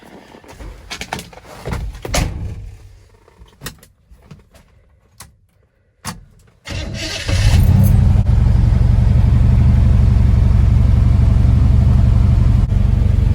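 A 1974 square body pickup truck's engine, revived after decades of sitting, catches and settles into a loud, steady idle rumble after several seconds of clanks and small knocks.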